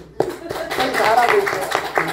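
A church congregation claps during a Korean sermon at a recovery center, with a few distinct sharp claps and scattered hand taps mixed under a speaking voice over about two seconds.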